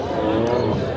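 A cow at a cattle market lets out a single low drawn-out moo, close and loud, lasting about a second.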